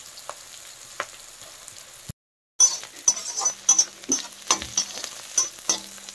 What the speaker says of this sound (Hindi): अब इन सबको हम भून लेंगे।